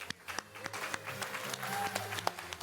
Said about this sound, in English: Big round of applause for Jason, please.